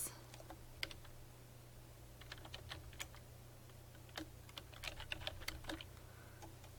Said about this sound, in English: So I can click and then I can just type.